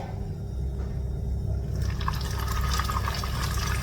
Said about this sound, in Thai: น้ำมันก็เดือดแล้วนะคะ เราจะใส่ปลาแล้ดูซิว่าจะกระเด็นไหม